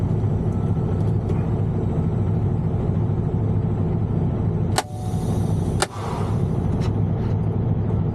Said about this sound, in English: I'm going to place the truck in the first gear, obviously, and release my brakes